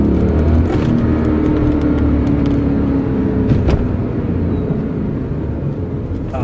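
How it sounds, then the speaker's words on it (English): A BMW E39 M5's 400-horsepower V8 roars loud and close under hard acceleration, a steady, throaty drone that holds strong and eases slightly toward the end, with no talking over it. "Just listen to this V8."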